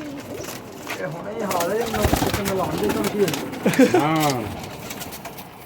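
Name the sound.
female pigeon cooing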